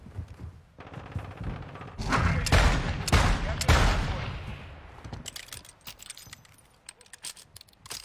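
Shotgun fire in an online shooter game, several loud close blasts clustered in the middle with clattering reload and handling noises before and after, under a busy game soundscape.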